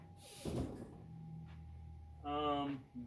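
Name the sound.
door being closed in a haunted house walk-through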